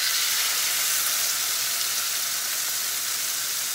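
Chicken frying in a hot pan coated with a tablespoon of oil, a dense, steady hissing sizzle, close and continuous with no pauses.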